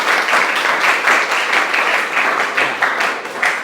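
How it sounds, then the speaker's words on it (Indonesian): Classroom applause for a student in a hotel-studies lesson: a short burst of close, brisk hand clapping from a small group, with slight pulsing swells throughout. "Tepuk tangan dulu untuk Hendra."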